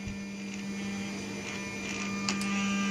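Mercedes S600 throttle actuators run on a test bench with a steady electric hum and buzz, faint whirring and light ticks layered on top, close and continuous.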